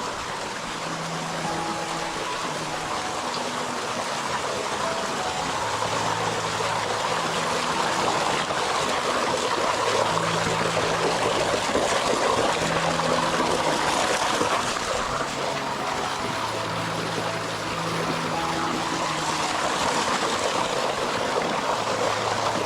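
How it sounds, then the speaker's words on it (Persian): A waterfall reached along a hiking trail roars as a constant broadband rush of falling water, steady and fairly loud throughout, with faint tonal sounds underneath. "ببین این اصل آبشارشه."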